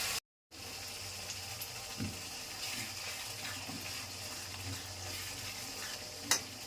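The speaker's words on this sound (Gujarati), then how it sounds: "તો હવે થોડીક વાર અમે ધીમા તાપે સડવા દેવાનું છે" Ridge gourd curry simmers on a low flame with a soft, steady bubbling and faint sizzle, plus an occasional small clink, alone and close by.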